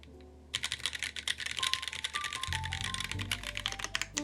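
Typing on a mechanical keyboard with a brass plate and linear switches, a fast steady stream of close, crisp keystrokes clacking continuously, with a low hum and faint tones underneath.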